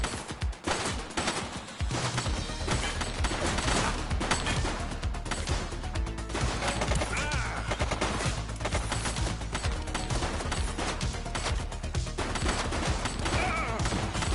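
Sustained gunfire in the police video game The Precinct, rapid dense shots and bursts firing continuously and loudly throughout with little pause.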